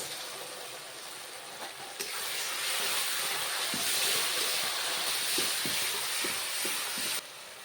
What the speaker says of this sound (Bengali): সোয়াবিনটা আমি এভাবে ভেজে নিয়েছি